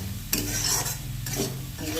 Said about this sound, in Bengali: দেখুন আমার আলু ভাজা